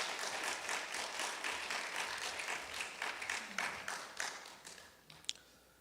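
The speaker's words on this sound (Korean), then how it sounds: "목사님한테 환영의 박수로 환영하겠습니다." A church congregation at a Sunday service claps to welcome the pastor, a soft scattered round of applause that thins out toward the end, closing with a couple of isolated taps.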